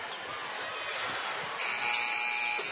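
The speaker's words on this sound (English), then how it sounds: "And at the buzzer, Ty Harris hits the 3." At a women's college basketball game between Kentucky and South Carolina at the SEC Tournament, a loud, steady electronic buzzer sounds for about a second at the end of the shot clock over arena crowd noise.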